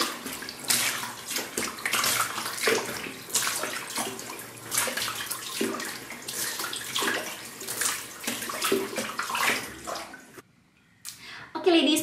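Water running steadily from a tap while a face is washed, a continuous loud splashing and rushing with uneven surges, briefly cutting out near the end before resuming, with a voice speaking softly at times.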